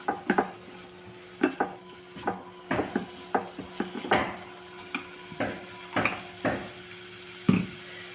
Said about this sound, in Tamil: சோயா சாஸ் ஊற்றி நம்ம கிண்டி விட்டுருவோம்.